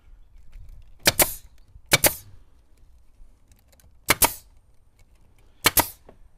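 A staple gun fires four sharp, loud snaps at close range into a wood bundle handle, with quiet pauses between the shots.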